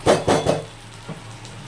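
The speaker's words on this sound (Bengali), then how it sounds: "আমি একটু নাড়াচাড়া করে নিচ্ছি জলটা মোটামুটি শুকিয়ে গেছে" Muri ghonto, a fish-head and rice dish, stirred in a pan: three quick loud scraping strokes of a spoon against metal, followed by a fainter scrape and quiet background.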